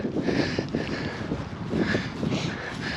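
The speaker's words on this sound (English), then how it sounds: "And it's super windy up here as well" Gusty wind on a hilltop buffeting the microphone, a low rumbling roar that swells and eases in uneven pulses throughout.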